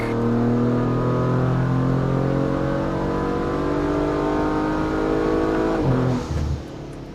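A 2022 Audi RS5 (B9.5) tuned on E85 revs hard on a dyno, a loud, sustained engine roar with rising harmonics that holds steady before dropping off abruptly near the end, with no talking.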